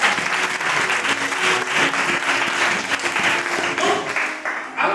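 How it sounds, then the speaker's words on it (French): Loud, dense applause comes from a church congregation acclaiming the Lord, a sustained wash of many hands clapping that fills the room, with faint voices under it. "On va acclamer très fort le Seigneur."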